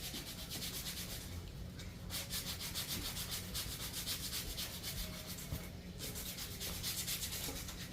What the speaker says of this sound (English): taking my finger sander here and I'm just going over my boards